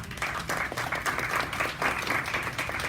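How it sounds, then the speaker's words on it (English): An audience applauds staff members called up at a gathering, a continuous dense wash of clapping from a crowd, steady and moderately loud for three seconds. "Everybody give them a big applause."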